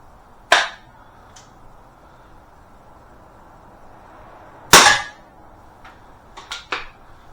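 Air pistols firing, a Webley Tempest and a Beeman P17: sparse, sharp single cracks, two prominent snappy shots with a few fainter clicks and taps, near and isolated against quiet room tone, no speech.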